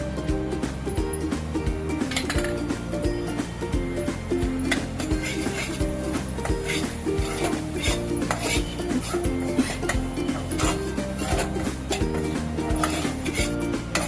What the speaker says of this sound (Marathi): रवा घेतला आहे तो भाजून घेऊया छान